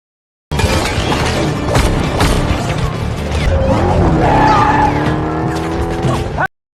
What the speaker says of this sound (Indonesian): saat mereka melarikan diri menggunakan truk lapis bajai